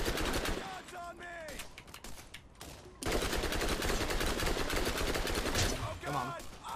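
Dense, continuous automatic gunfire and combat effects from the shooter game Borderlands, loud and chaotic throughout with a brief lull midway, while voices talk over the action.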